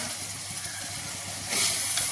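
An onion and beetroot pickle mixture is boiling down in a pan, giving off a steady bubbling sizzle and hiss that swells briefly louder near the end.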